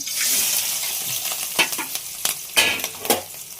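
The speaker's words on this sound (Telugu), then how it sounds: "పచ్చిమిర్చి ని దారుగా వేపేద్దాం" Green chilies and onion sizzle and fry in hot oil in a pan, a constant hiss punctuated by several sharp scraping stirs of a utensil, close and fairly loud.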